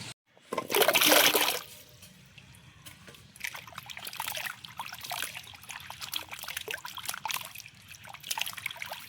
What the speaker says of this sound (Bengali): এই যে আমার সব কচু কাটা হয়ে গেছে এবার ধুয়ে নেবো